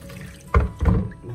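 Tap water splashing over long-grain rice being rinsed until the water runs clear, a soft background trickle broken by two short, fuller gushes, close and without voices.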